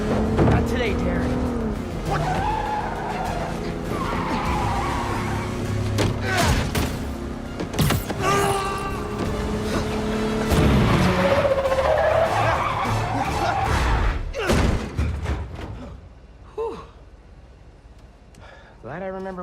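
Car engine revving and tires skidding in the Spider-Man 2 video game, with game music and sound effects mixed in and a character voice over parts of the driving.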